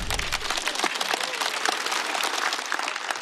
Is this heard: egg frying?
no